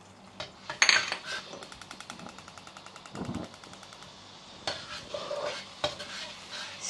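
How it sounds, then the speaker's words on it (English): Butter and minced garlic stir-fry in a wok, a steady sizzle under rapid rattling clicks of a spatula against the metal, then heavier scraping strokes, close and fairly loud, with no one speaking. "Add our butter, which are and our minced garlic."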